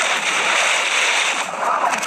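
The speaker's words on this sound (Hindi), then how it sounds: "पुलिस ऑफिसर पानी में कूद गया।" Splashing water as a police officer jumps into a pool in a video game, a bright broadband wash of splash and slosh lasting the whole moment, fairly loud and close, with no talk.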